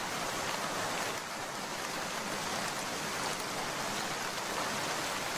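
Rain falls in a cartoon scene as a steady, even hiss with no breaks, fairly soft and uniform throughout.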